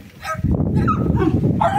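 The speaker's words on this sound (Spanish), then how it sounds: "Que te ladran" Dogs bark and yip in quick, excited bursts with whimpering cries, close by and fairly loud, on a countryside walk.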